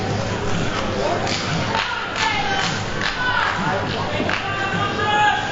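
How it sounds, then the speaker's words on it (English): Wrestling crowd at a live AML Wrestling match, a steady dense roar of voices and rhythmic chanting filling the arena throughout, with scattered thuds and cheers rising near the end. "The crowd chanting for Konley as Rush looking to close the deal here."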